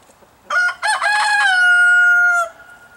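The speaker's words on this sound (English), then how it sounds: "We got a new rooster, I think." A rooster crows once, close and loud: a few rough opening notes followed by a long, sustained, strained final note.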